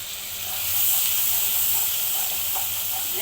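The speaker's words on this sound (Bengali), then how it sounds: "এখন চিংড়িটাকে আমি দুই মিনিট ঢেকে রান্না করে নেব" Shrimp cooking covered in a pan, a steady close hiss of steam and sizzle that swells early and then holds evenly without pause.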